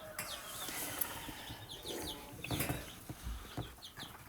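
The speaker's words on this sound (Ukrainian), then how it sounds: "Оце два півня у мене американа знайшли друг друга і виясняють відношення" Two American-breed roosters fight on a farmstead, their wings beating in repeated bursts of flapping with scattered clucks, close and fairly loud over steady yard noise.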